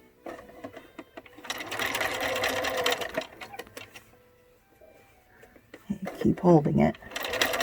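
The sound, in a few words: sewing machine stitching a face mask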